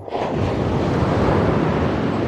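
Large ocean waves roll onto the shore at Naic, Cavite, where people fish, giving a loud, steady wash of surf with a wind-buffeted roar and no talk.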